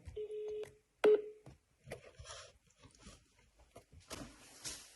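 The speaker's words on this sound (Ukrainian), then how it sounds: "І телефонуємо ще раз." Telephone dialing tones beep near and clear as a call is placed to an appeals court, followed by faint clicks and line noise.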